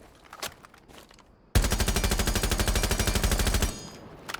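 A gun fitted with a flash hider fires a long rapid automatic burst in Rainbow Six Siege, loud and rhythmic for about two seconds, following a few scattered quieter shots.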